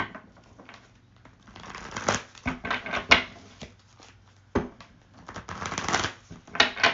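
Tarot cards being shuffled by hand, giving repeated riffling and crackling bursts of varying loudness with short pauses between, close and without talk.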